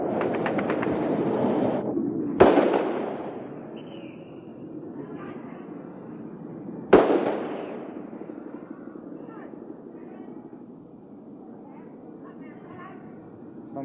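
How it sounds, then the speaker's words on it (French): M16 rifles fire during the fall of Saigon, with two loud, sharp single shots several seconds apart that ring out and echo over steady background rumble, with voices also present. "Les impressionner en tirant des coups de M16."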